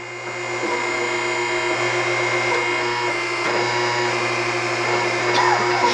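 A Hunter TCX625HD tire changer turns a tire while mounting it, giving off a steady, close motor whir and hum that holds evenly throughout with faint mechanical rattles.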